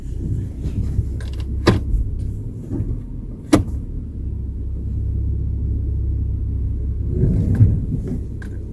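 A car creeps slowly across a parking lot at about three miles per hour, with a steady low engine rumble, a couple of sharp clicks or knocks, and a slight swell near the end.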